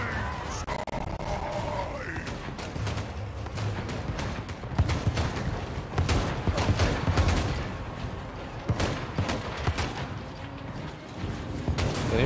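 Ogre cannon units firing in the Total War: Warhammer 3 strategy game, a dense, continuous barrage of overlapping booms and cracks with a busy battle din underneath.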